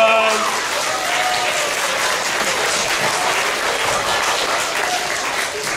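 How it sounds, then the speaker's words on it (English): Steady audience applause during a monologue workshop, a thick continuous roar of many hands clapping at a fairly loud, even level, with a brief voice at the very start. "Give him a round of applause."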